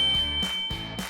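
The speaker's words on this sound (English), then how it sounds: "hit the damn bell" Two bright electronic bell dings ring out clearly, each with a sustained shimmering tone that decays, spaced about half a second apart, loud and alone.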